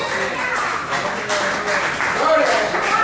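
A church congregation applauds during a Spanish-language sermon, dense steady clapping filling the room at an even level for a few seconds, with voices and cheers mixed into the clatter.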